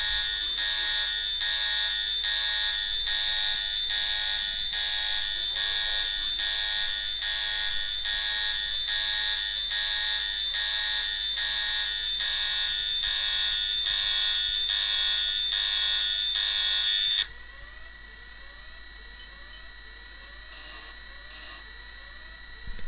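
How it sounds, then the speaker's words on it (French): An alarm blares in the PC game Deus Ex, a loud, rapidly pulsing electronic tone repeating evenly for most of the stretch before it shifts to a steadier, slightly quieter warble at the end. "Alarme!"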